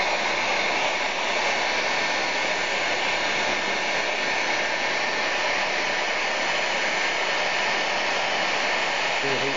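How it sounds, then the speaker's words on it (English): A heat gun runs steadily and loudly for the whole stretch, a constant roaring blow of hot air used to gently warm a plastic N gauge model railway bridge part so it can be bent. "So if I just gently warm that up with a heat gun"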